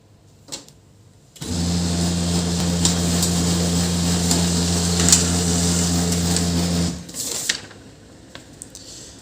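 An HP LaserJet 2035 laser printer prints a test page: a steady mechanical whir with a low droning hum runs for several seconds, then stops, with a few brief clicks before and after.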